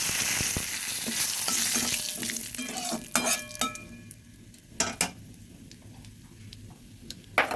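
Bay leaves dropped into hot oil in a pan crackle and sizzle up close, the frying loud at first and then easing into quieter spits and sharp pops.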